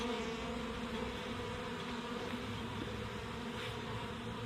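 Constant buzzing of many honeybees on a farm, a steady low drone with no pauses, fairly quiet and close.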